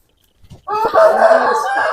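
A black rooster crows loudly and close, one strong sustained call rising after a few brief clucks, on a poultry fanciers' farm.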